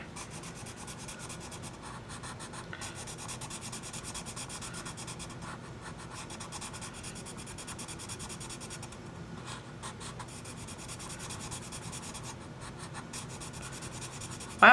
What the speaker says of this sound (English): Let's get our handy dandy blender pencil.